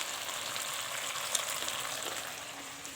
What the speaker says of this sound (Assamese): বিলাহীখন ভাজি আছোঁ